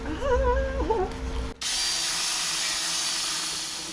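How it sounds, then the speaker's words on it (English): An angle grinder works back a weld on the inner wing of a Rover P6, its steady high-pitched whine rising into a loud, continuous abrasive roar against the metal. "I've really hit that with the grinder. And I've ground back."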